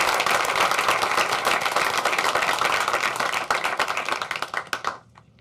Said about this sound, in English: give them another round of applause for their tremendous accomplishments